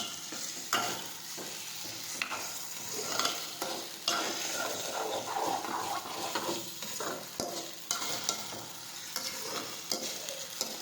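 Tomatoes and onions sizzle steadily in a pan while a utensil scrapes and stirs them in irregular strokes with occasional clinks, close and continuous with no talk.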